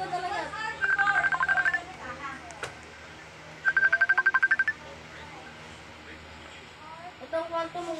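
A mobile phone rings with an incoming call, giving two close bursts of rapid electronic tones about a second long, separated by a pause, with people talking around them.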